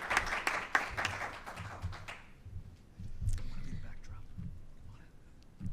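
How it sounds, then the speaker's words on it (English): A burst of audience clapping fills the first couple of seconds at a governor's public address, then fades quickly into low room noise and murmuring. "Let's give her another big round of applause while we hear from her."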